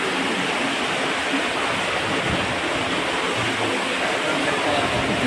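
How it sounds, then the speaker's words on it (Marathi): Heavy monsoon rain pours down over Shivneri fort in a dense, steady broadband roar, loud and close, with no breaks for the whole stretch. "मुसळधार पाऊस आहे."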